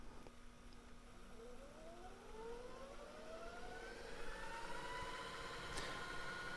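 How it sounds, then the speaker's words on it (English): A JVC Super VHS ET VCR, model HR-S3800U, rewinds a tape with a steady mechanical whir whose pitch climbs smoothly as the spool speeds up from a slow start, joined by a brief click near the end. "I'm going to go ahead and rewind the tape"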